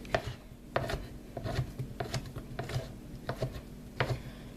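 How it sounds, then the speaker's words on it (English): A knife chops smoked sausages into small pieces on a board, quick close taps repeating in an uneven rhythm with faint kitchen rustling in between. "Just cutting them up in little bits."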